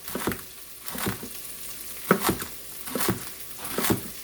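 Thin-sliced beets and carrots sauteing in oil in a pan, a soft sizzle broken by a few rhythmic stirring scrapes, close and moderately loud, with no talk.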